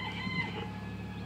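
Chickens clucking in a barn, a low murmur of fowl calls with a brief higher squawk early on, steady and fairly close with no talk over it.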